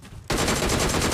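The DP gun in BGMI opens up after a brief quiet moment, a rapid, loud stream of automatic gunshots in a tight, steady rhythm lasting to the end.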